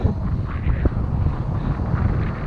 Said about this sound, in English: Very windy now